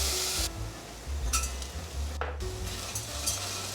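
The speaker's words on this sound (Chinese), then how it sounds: "继续翻炒" Pumpkin, mushroom and job's tears are stir-fried in a wok, giving a steady loud sizzle broken by scraping stirs and one brief clatter of the spatula, close up.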